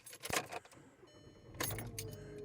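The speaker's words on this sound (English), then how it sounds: "when I put the key in the ignition and start up the car" Keys jangle as a key goes into the ignition of a 2009 VW MK5, followed after a pause by a broad rush of sound as the car starts, heard up close inside the cabin.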